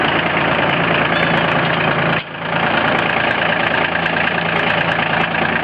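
A tractor engine runs steadily at a loud, close idle, with a brief dip in level partway through before the drone resumes unchanged.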